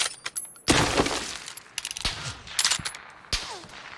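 Gunfire in the PUBG battle-royale video game: a rapid burst of shots followed by scattered single cracks and further short volleys, fairly close and loud, with little talk over it.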